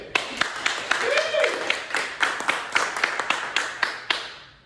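An audience at an open mic comedy show claps in scattered, uneven bursts for a few seconds, sharp individual claps rather than a full applause wave, with a voice heard briefly.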